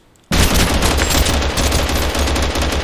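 An assault rifle in the game TABG fires rapidly, a loud, continuous burst of gunfire that starts abruptly after a brief silence and runs without pause to the end, with no voices.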